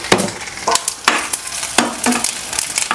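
Dried chillies, vadagam and cumin crackle and sizzle in hot oil for a tempering, with repeated bursts of spattering as the pan is stirred, close and fairly loud.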